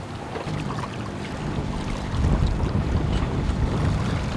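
A sailboat motors out of port on the way to Turkey, with a steady low engine drone and hull rumble under wind and water noise, growing louder partway through.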